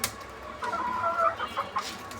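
A native free-range hen clucks in a short run of soft, close calls over a quiet background.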